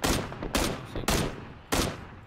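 Gunfire in PUBG Battlegrounds: four loud, sharp shots spaced roughly half a second apart, each with a booming tail that decays before the next, with no voices over them.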